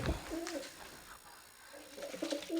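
Pigeons coo in soft, repeated two-part phrases at close range, breeding birds with the male driving the female toward the nest, in a quiet room with faint background hiss between the coos.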